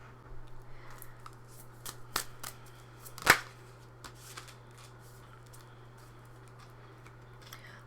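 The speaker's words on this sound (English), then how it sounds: "now I'm going to pull some more oracle cards" Oracle cards being shuffled and pulled by hand, a run of light papery riffles and flicks with one sharper snap midway, close and quiet over a steady low hum, no voices.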